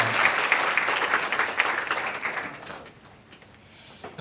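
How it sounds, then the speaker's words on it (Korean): Church congregation applauding together, a steady wash of clapping that fills the space for several seconds before thinning out and fading toward the end. "우리 김양현 리더에게 다시 한번 또 박수로 이렇게 감동해 주시면 감사하겠습니다."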